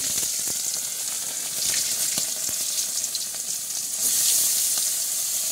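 Hot oil sizzles steadily in a wok, a dense continuous crackle with brief sharper pops and a louder surge near the end, close and with no voices.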